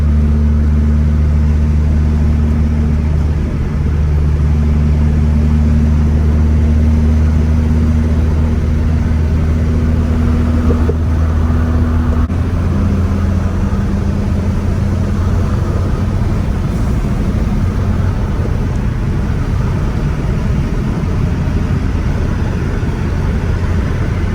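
Several cars roll together on a slow parade lap, a loud steady engine drone with low humming tones holding throughout, shifting pitch slightly partway through, with no talking.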